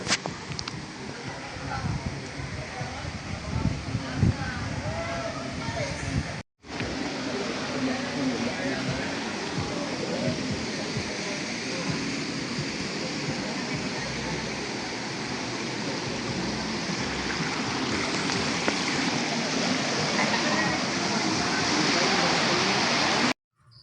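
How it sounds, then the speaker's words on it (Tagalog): Rushing water of Antong Falls and its stream in the Philippines, a steady broadband roar filling the whole stretch with a brief cut near the start. "Okay, dito tayo sa Antong Falls mga brad."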